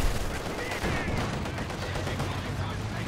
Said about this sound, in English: Machine gun getting the suppression in there.